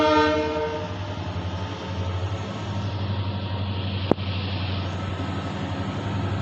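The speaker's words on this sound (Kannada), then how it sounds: "ಬಂತು ನೋಡ್ರಿ 11311 ಸೋಲಾಪುರ ಹಾಸನ್ ಎಕ್ಸ್‌ಪ್ರೆಸ್ಸು" Train 11311, the Solapur–Hassan Express, rolls in with a steady low rumble of wheels and cars, a sustained horn tone fading at the start and one sharp clank partway through.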